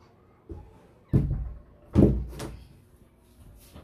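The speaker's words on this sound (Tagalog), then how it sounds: "Sarang pinto." Someone shuts a door at home with a few close, solid thuds and bumps, the loudest two landing about a second apart, then lighter knocks and creaks follow as it settles into the frame.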